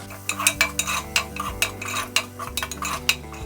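Peas and corn frying in a pan while a spoon stirs them, giving close, steady scraping and clinking strokes against the metal with a faint sizzle underneath, and no talking.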